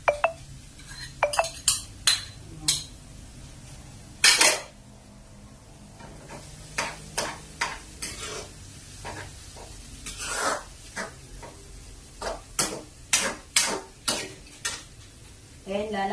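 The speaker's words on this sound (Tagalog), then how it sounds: "ang ilalagay ko naman po yung hinimay na pritong galunggong" Flaked fried galunggong fish tipped into a sautéing mung bean dish, with a run of sharp metal clinks and scrapes from a utensil against the pan over a low sizzle, the strikes coming in irregular bursts close by.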